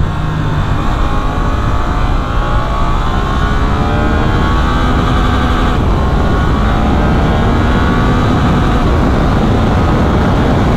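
A Suzuki GSX-8S motorcycle accelerates on a road test, its engine loud and close with a steady, rising drone throughout and no talking.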